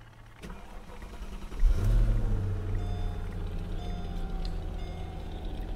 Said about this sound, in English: All right, we got the car running now.